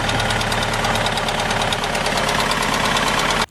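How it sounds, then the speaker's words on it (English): An Audi 100 engine runs steadily up close, a loud, even idle with a rapid rhythmic knock and vibration throughout before cutting off abruptly at the end. "The engine seems to be running fine"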